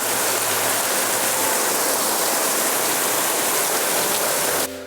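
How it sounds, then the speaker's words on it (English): Dense, heavy rain pours down in a loud continuous hiss, steady and close, with no pauses. "This is some serious rain right there."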